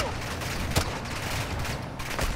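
Rapid automatic gunfire from a Call of Duty story mission, dense sustained bursts with one sharper shot standing out, loud and close, alone with no talk.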